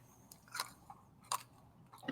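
Coated peanuts crunched between the teeth, a few sharp bites at separate moments over quiet low room tone, each crisp crack standing out close and distinct.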